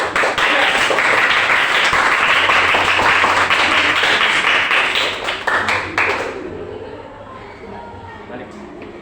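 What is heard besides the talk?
applause for presentation group 3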